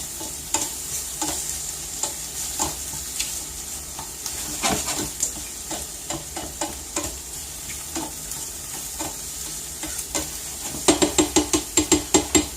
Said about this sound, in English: Let the garlic cook for just a minute